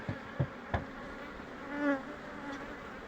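Honeybees hum in a steady, close buzz at an open hive, with a few soft knocks and a louder passing drone partway through.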